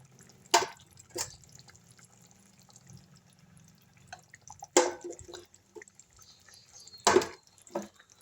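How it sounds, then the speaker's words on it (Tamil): Eggs slip one at a time into bubbling egg gravy, each landing as a sharp wet plop with a small splash, spaced several seconds apart over a faint simmer, close by and without talk. "குழம்பு நல்லா கொதிச்சிச்சிங்க இப்போ வந்து முட்டை ஊற்றினா கரெக்டாக இருக்கும்"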